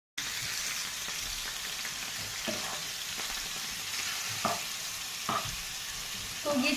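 Chicken frying in a pan for sandwiches, a steady close sizzle broken by a few sharp stirring clicks and scrapes, with no voices.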